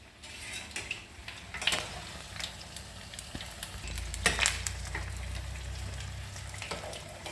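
Mirapakaaya bajji, battered chillies, frying in oil over a low flame, a soft steady sizzle with occasional clinks and stirring scrapes, fairly quiet and close.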